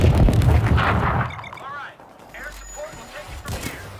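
Rapid bursts of gunfire and booming blasts in the video game World War Z fill the opening, then thinner shots and effects continue while voices talk excitedly over them.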